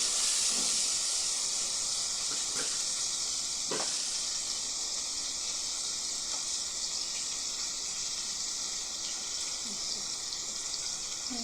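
Fish sizzles while being sautéed in a pan, a loud, steady hiss of frying running throughout with a few faint clinks mixed in.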